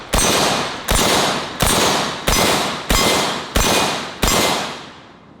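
Russian SKS semi-automatic rifle firing 7.62x39 rounds outdoors: seven loud, sharp shots at a steady pace of roughly one every 0.7 seconds, each with a decaying echo tail.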